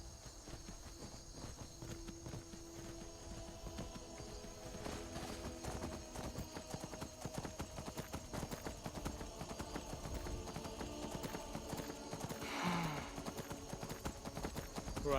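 Steady clip-clop of horse hooves at a walking pace in Skyrim, over a dense game soundscape with music and ambience, with a brief whinny-like sound near the end.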